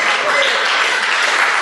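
Loud, dense clapping from a banquet audience at a recognition event, a thick unbroken wash of many hands with voices mixed in underneath.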